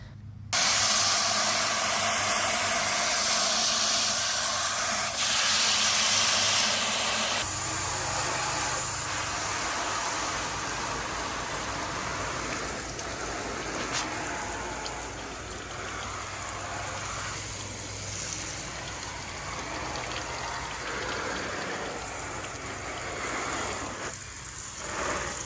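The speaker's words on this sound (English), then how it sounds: "I know some people like the sounds of water and all that kind of stuff" Rain or running water makes a steady hiss and patter for about half a minute, even and unbroken with slight shifts in texture, heard alone without voices.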